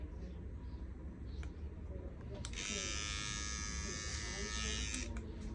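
Electric hair clippers buzzing as they cut hair during a low drop fade, a steady close electric hum that kicks in partway through, with someone talking underneath.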